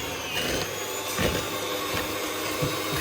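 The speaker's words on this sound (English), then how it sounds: "now I've got to give this a good whisk up" Butter and sugar being whisked together in a bowl for a pastry topping, a steady scraping churn with a few louder knocks of the whisk against the bowl, close up and with no talking.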